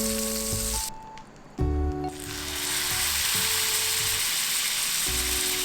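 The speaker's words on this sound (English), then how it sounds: "And now it's time to grill the prawns." Prawns grilling in butter on a hot pan give off a steady hiss of sizzling that swells after a brief clatter, with some tonal electronic hum underneath and no talking.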